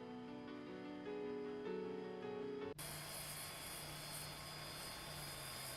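Dash 8 Q400 turboprop engine spooling up during a start in a flight simulator, first a layered tonal hum, then a sudden switch at the midpoint to a loud, steady broadband roar that carries on to the end, with no talk.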